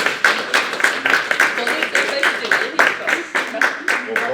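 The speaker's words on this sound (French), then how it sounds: "vous pouvez déjà applaudir Bénédicte" Seminar audience gives scattered, rhythmic hand-claps for a presenter, moderately close and fairly even, with a voice talking over the clapping throughout.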